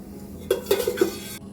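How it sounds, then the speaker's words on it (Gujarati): Metal spoon clinks against a pan on a stove as ghee is added, four quick bright taps in a row over a quiet kitchen background. "પેનમાં 1 ચમચી જેટલું ઘી મૂકશું."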